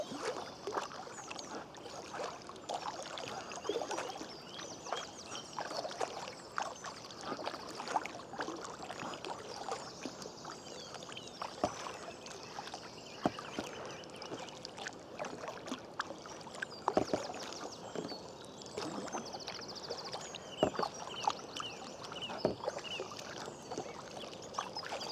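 A Packlite inflatable kayak is paddled on water, with soft splashes and drips from the paddle strokes repeating irregularly over a quiet, continuous water wash, and no talking.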